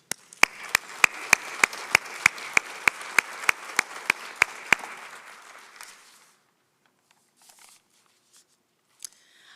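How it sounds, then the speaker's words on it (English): A church congregation applauds at an annual congregational meeting: a steady wash of clapping with one loud, evenly spaced clap standing out, lasting about six seconds before fading to near silence with a few faint stray sounds. "I will ask you to applaud for yourself for everything that you do for this"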